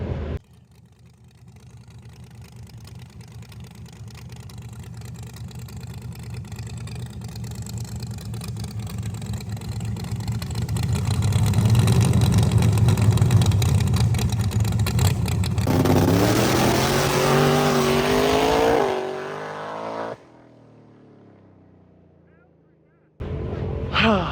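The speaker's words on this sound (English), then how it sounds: "Jason sounds like he is hooked on the Pro Charger." A ProCharger-supercharged drag car engine revs and builds, rising in pitch and loudness before cutting off, then starting again briefly, with a low throbbing rumble throughout.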